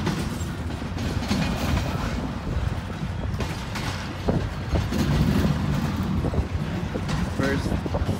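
A CP freight train on the Mactier Sub rolls past with 7000-series ACU units and a tail-end DPU. It makes a steady, loud rumble with rail clatter throughout, and a voice speaks over it.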